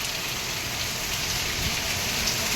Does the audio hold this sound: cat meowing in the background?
no